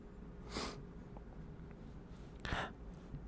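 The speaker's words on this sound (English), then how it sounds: "Sorry if I'm clearing my throat a lot today." Two short, breathy throat-clearing bursts close to the microphone, about two seconds apart, against quiet background hum.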